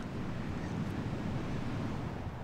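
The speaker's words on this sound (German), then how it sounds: "An ihrer Westseite tost das für seine starken Winde, die tückische Strömung und die schweren Stürme bekannte Meer im Golf von Biskaya." Heavy sea surf and strong wind roar steadily on the Bay of Biscay coast at Cap Ferret, a dense, constant rumbling wash with no breaks and no voices.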